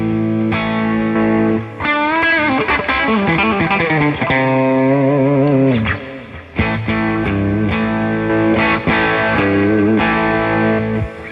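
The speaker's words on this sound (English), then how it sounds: "I've got a lead boost set right here on this Boss, and so I will go from my distortion" Distorted electric guitar playing sustained, bending lead lines, loud and continuous with brief pauses, the tone thickening and louder as a Boss lead boost is added over the distortion.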